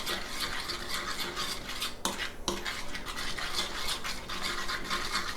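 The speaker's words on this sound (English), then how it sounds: "And just give that a little mix." Beet pastrami marinade with celery salt being mixed in a bowl, a steady close scraping and swishing stir that runs throughout with a brief pause midway.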